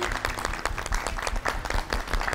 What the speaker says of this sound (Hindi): बहुत सारी तालियां दोनों के लिए।